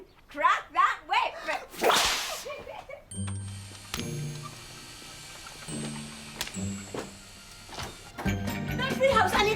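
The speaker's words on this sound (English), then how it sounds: "Crack that whip." A whip cracks in a British television comedy-drama scene, a sharp broadband snap standing out near the start before other sounds and voices follow.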